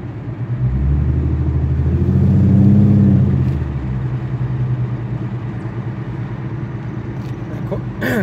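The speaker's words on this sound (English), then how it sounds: "Get on the gas a little bit. It's just a nice rumble." Ford Mustang with a 4.0 V6 engine and loud exhaust giving a low, steady rumble that swells briefly as the throttle is pressed near 2000 RPM, then settles, with someone talking over it.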